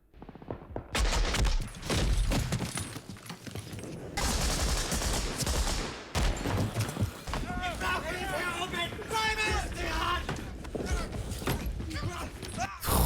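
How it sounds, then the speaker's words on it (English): Gunfire from the 1998 war film Saving Private Ryan, with bursts of shots and automatic fire amid shouting, chaotic battle noise and music, loud and continuous, with voices mixed throughout. "They didn't just shoot Upham, did they?"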